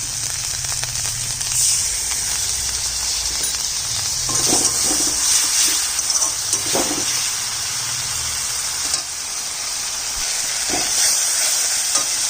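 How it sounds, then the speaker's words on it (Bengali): Onion and tomato frying with spices in a pan for a snakehead (shol) fish curry, a steady close sizzle with scattered stirring scrapes and clatters running continuously throughout. "পেঁয়াজ টমেটোটা ভালো করে ভাজা হয়ে গেছে এবার আমি মশলাটা দিয়ে দিচ্ছি"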